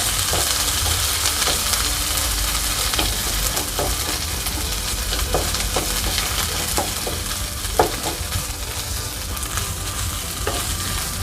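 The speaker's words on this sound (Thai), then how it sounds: "ผัดพริกแกงให้หอมเลยนะคะ เราจะใช้ไฟกลางนะคะ" Curry paste stir-fried in oil in a pan over medium heat, a steady close sizzle broken by repeated scraping and stirring strokes of a utensil, with no talking.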